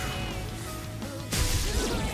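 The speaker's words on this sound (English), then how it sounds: "That effect is so satisfying in the glass breaking." Shattering-glass effect from the Persona 3 Reload video game, a sudden bright crash that bursts in past the midpoint and rings out over steady game music.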